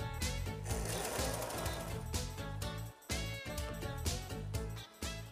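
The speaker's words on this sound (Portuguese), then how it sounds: "Então a gente vai passar aqui uma costura aqui para segurar as alças." A sewing machine stitches across cotton bag handles with a rapid, steady mechanical whirr, broken by short stops around the middle and near the end.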